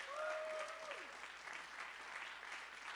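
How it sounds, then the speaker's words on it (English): An audience at a Baptist chapel service applauds an award recipient, a soft, dense patter of clapping continuing evenly throughout, a brief voice heard faintly at the start. "You can give me a big round of applause."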